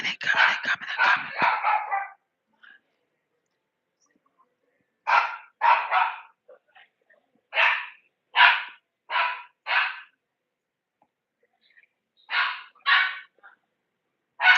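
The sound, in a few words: dog barking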